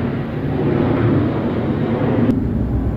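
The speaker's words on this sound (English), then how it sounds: "There goes the airplane again." An airplane passes overhead as a steady, broad roar that holds level throughout, loud and without voices.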